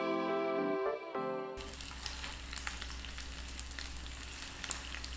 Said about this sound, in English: place the fish into the hot oil